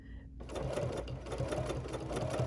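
A Bernina sewing machine with a binder attachment runs steadily after a brief pause, its rapid needle chatter and motor hum continuous and close.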